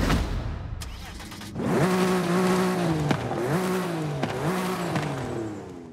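A BMW G82 M4 Competition engine starting in Forza Horizon 5. It catches with a sharp burst, then settles into a loud, close idle broken by several quick throttle blips that rise and fall.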